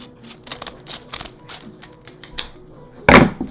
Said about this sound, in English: just take your scissors and cut this in half